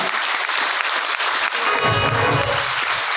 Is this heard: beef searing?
no